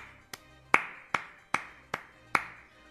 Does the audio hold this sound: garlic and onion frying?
no